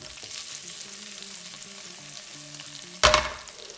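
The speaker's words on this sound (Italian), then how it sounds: "Adesso sentiamo meno quello sfregolio." Capers frying in a pan for pasta alla Vesuviana give a steady soft sizzle and crackle, then a sudden loud burst of sizzling near the end as more goes into the hot pan.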